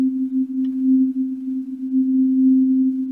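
White noise passed through a resonator tuned to C3 and auto-tuned, producing a loud, steady, pure synth tone that holds one pitch throughout, heard alone.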